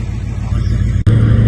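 A 6.0 Powerstroke diesel truck engine idles with a steady low rumble and drone, loud and close, with a brief dip before the hum resumes.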